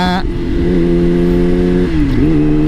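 A motorcycle with an aftermarket exhaust pipe idles loud and close with a deep, steady rumble. Its pitch dips and then climbs in a brief rev near the end.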